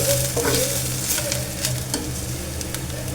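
Loud, steady sizzling and crackling of a hot oil tempering poured into a pot of lentils, with faint stirring scrapes, continuous throughout.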